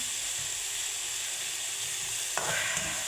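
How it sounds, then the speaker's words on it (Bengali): Water spinach fries with onion and garlic in a pan, a close steady hiss and sizzle that swells briefly with a stir near the end, no talk. "এটা হচ্ছে আমার কলমি শাক ভাজি"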